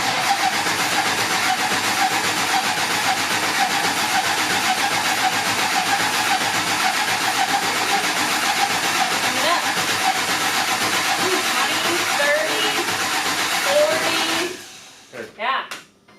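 A supercharged LS engine cranks over steadily and loudly for about fourteen seconds in a shop, a continuous rough whirring drone that cuts off abruptly, followed by brief faint clunks.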